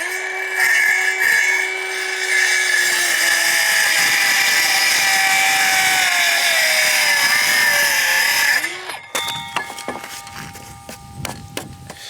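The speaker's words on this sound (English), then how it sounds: "It's the funny thing about this saw. Because of the small blade radius, it's harder to make a straighter cut." A small-blade power saw cuts through wood while framing a shed base, a loud steady whine held for about nine seconds before stopping abruptly, followed by scattered clatter and handling noises.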